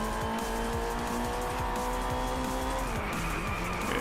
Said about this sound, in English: right there you're seeing an Ariel Atom and then a Caterham right behind